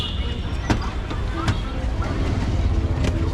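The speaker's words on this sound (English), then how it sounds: "We're gonna take our rickshaw ride here." A rickshaw ride through Delhi, with a steady low motor rumble and road noise throughout, a few sharp clicks and knocks, and faint voices in the background.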